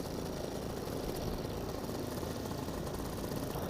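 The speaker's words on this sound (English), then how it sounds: "Engine out. Well, idle." A paramotor engine idles in flight with a steady, rough, mid-pitched drone and a rushing wind-like wash, continuous and unbroken throughout.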